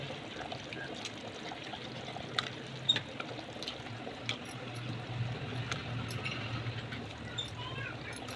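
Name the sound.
mutton curry gravy boiling in a pot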